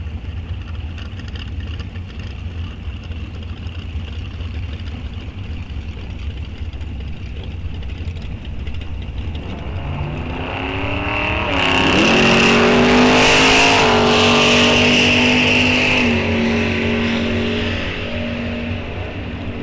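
Cars at a drag strip during ET bracket racing, one a 1969 Camaro, rumble in a steady engine drone before a loud surge of revving launches, with the roar building and then trailing off into the distance.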